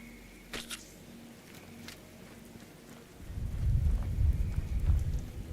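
A low rumble of thunder builds and rolls through the second half, with soft rain hiss and a few sharp crackles earlier, from the video game Fallout 76.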